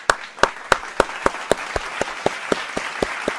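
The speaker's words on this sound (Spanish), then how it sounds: "Un segundo aplauso" A small group claps in a quick, steady rhythm, each clap sharp and distinct, keeping an even beat throughout.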